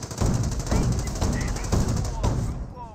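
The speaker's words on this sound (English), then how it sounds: "We're seeing some fire there from the 30 cal." Rapid, steady bursts of .30 cal machine gun fire in the Company of Heroes strategy game, a dense rattling stream that continues with little pause, loud and mid-distance, with a commentator's voice faintly underneath.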